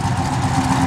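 A brief, close burst of engine roar from a 1973 Chevrolet Camaro RS/Z28 V8, loud and even throughout.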